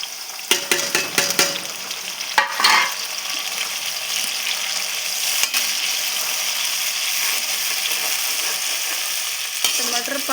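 Tomatoes go into browned onions in a hot pan for an aloo methi palak sabzi, followed by a sharp burst of sizzling, clattering stirring with a spoon, then a continuous frying hiss.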